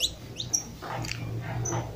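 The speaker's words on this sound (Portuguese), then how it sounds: "Olha aí como é lindo e maravilhoso ouvindo os cânticos desses pássaros" Wild birds singing while they feed, with several short high chirps and whistled calls scattered over a faint low background rumble, fairly close and without talk.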